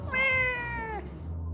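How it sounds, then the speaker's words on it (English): A pet cat lets out one close, clear, drawn-out meow that falls in pitch at the end, heard alone against a quiet low background. "Just say hi to my cat."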